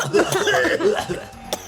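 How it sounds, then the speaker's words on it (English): Coughing breaks out across a smoke-filled arena, a cluster of short, rough bursts at close range that trail off, with a brief laugh-like sound near the end. "causing everyone in the arena to start coughing at the same time."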